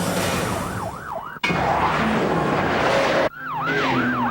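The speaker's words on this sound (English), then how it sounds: "The shriek of sirens on the quiet night warns the countryside a high-speed pursuit is in progress" Police car sirens whoop in a fast, looping wail during a high-speed pursuit on a quiet country night, loud and close, broken by two abrupt cuts to a louder burst of road and engine roar.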